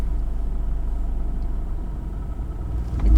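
A manual car idles with a low, rhythmic engine throb as the clutch is eased out in first gear, the rumble swelling slightly at the end as it starts to pull away.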